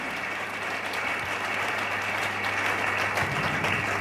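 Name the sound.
congregation applauding in church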